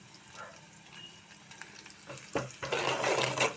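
Onions fry with turmeric and salt in a pan, a quiet sizzle at first, then a spoon scrapes and stirs and the frying grows louder and busier near the end.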